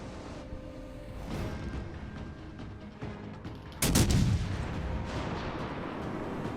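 Naval artillery firing from the legendary cruiser Alaska in World of Warships: Legends, a single loud heavy boom midway that stands out over a low rumbling background.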